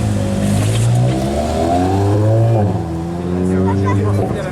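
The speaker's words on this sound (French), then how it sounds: "Oh le convoi de GT2 RS Bleu" A convoy of blue Porsche GT2 RS cars accelerates past at a cars and coffee meet in Luxembourg, engines rising and falling in loud overlapping revving sweeps, with someone talking excitedly over them.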